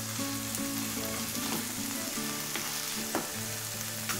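Chopped onion and tomato sizzle steadily in a pan for a masala papad topping, with scraping stir strokes now and then and a low hum underneath.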